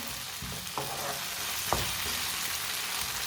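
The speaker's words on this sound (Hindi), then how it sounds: "अब सब्जियों को दोबारा 1 मिनट के लिए पका लेते हैं।" Vegetables sizzle in a pan on the stove, reheated for chicken macaroni, with a steady frying hiss and a couple of brief stirring scrapes, close and moderately quiet, no talking.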